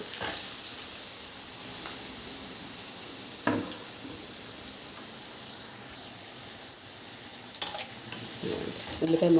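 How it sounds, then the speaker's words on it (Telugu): Chopped onions fry in oil over a medium flame, giving a steady, soft sizzle throughout, broken by occasional clinks and scrapes of a stirring spoon against the pan. "ముక్కల్ని కొంచెం గోధుమ రంగులోకి వచ్చే వరకు మనం వేయించుకోవాలి మీడియం ఫ్లేమ్ మీద వేయించుకోండి"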